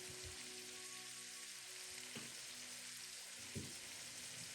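Shrimp fry and sizzle in a pan with a steady, dense crackle throughout, joined by a few faint scraping stirs.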